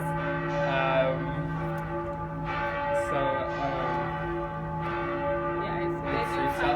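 Church bells peal with rich, resonant tones, repeated strikes layering into a continuous ringing hum that carries through the whole stretch.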